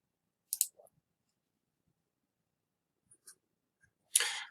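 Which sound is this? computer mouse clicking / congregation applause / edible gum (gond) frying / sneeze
computer mouse clicking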